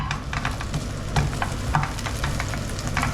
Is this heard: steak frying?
yes